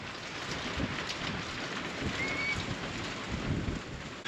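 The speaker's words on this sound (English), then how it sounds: "it is still raining outside" Rain falls steadily outside a barn as a continuous, even hiss with light spatters, heard from under cover at moderate volume with no talking.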